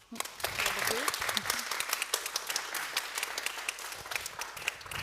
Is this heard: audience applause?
yes